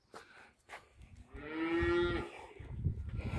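A single cow lets out a long, loud moo at close range in the countryside, preceded by a few faint knocks and followed by low rustling.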